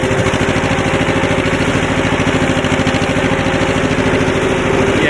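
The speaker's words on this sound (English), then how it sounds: "Gotta love the sound of a diesel" Old diesel tractor engine running just after a cold start, a loud, close, steady rough chug with a throbbing low rhythm and no voices over it.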